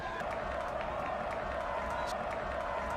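Spectators at a high school boys' varsity football game between Salesianum and La Salle College stand and cheer, a dense, continuous roar of voices that stays at a constant level throughout with scattered clapping.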